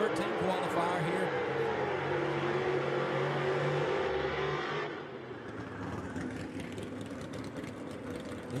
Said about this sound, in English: Going to be taking on the 59 Corvette of Rick Taylor, the number 13 qualifier here.